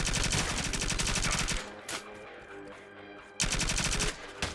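Rapid-fire SMG bursts in the video game CyberCorp: two long, loud strings of fast, evenly spaced shots with a short gap between, plus a couple of single reports in the pause.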